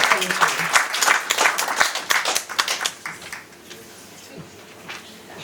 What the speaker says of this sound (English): There's a round of applause for Joshua.